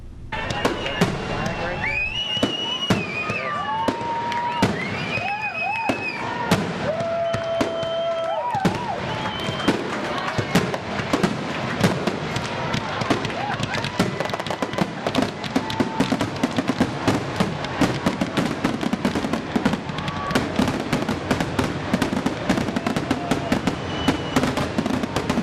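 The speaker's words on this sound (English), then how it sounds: "the rain stopped, just in time to enjoy the wonderful fireworks at Olympia Fields." Independence Day fireworks burst over Olympia Fields after rain, with a dense run of loud cracks and pops and some whistling rockets early on, continuing steadily with crowd noise underneath.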